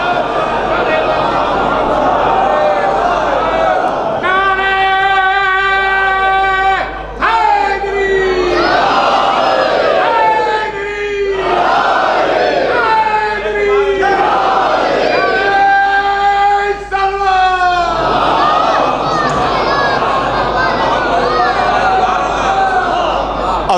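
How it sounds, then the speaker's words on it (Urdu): A large majlis congregation at an imambargah in Lucknow recites salawat aloud in unison, a loud, sustained, harmonious chant of many voices filling the hall, rising and swelling in several waves. "ایک صلوات بلند آواز سے بر محمد وآلہ"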